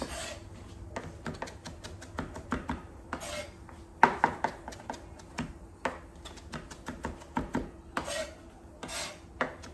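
A knife chopping parsley finely on a board, with quick, irregular taps that come in rhythmic bursts, close and fairly crisp, and no voices.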